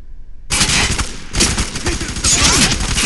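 Video game gunfire in a firefight, loud and dense from half a second in: sustained bursts of automatic weapons with overlapping shots and booms, near and continuous to the end.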